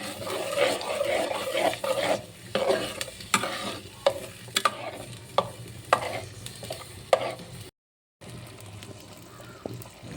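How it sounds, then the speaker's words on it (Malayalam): Ground onion-tomato paste sizzles in hot oil as it is stirred, with repeated scraping strokes and steady frying hiss close by, cutting out briefly near the end before resuming. "എന്നിട്ട് അത് നന്നായിട്ട് ഇളക്കി കൊടുക്കണം"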